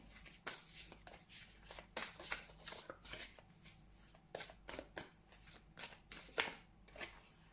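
A deck of tarot cards being shuffled by hand: quick riffling bursts and soft card slaps repeat in an uneven rhythm, close and fairly quiet, with no talking.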